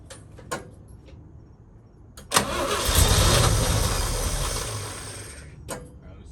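A 1966 International Harvester 1100A truck engine cranks and catches at about 2.4 seconds, then idles steadily and loud for roughly three seconds before fading, with a few sharp clicks and knocks at the start and end.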